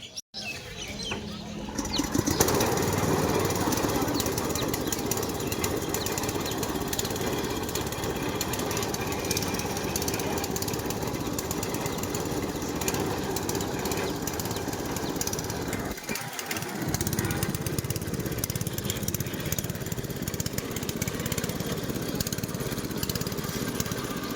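A sugarcane juice machine runs at a village market in Satjelia, giving a loud, steady mechanical chugging drone that continues throughout, with a brief dip partway through.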